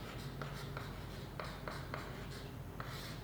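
Chalk or a marker writes a physics formula on a classroom board in a string of short, scratchy strokes with brief pauses between them, close and fairly quiet, with no talking over it.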